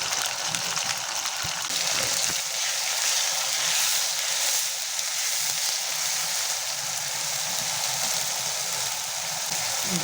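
Duck pieces and ground spices fry in a pan with a loud, continuous hissing sizzle that stays steady and close throughout, with no speech.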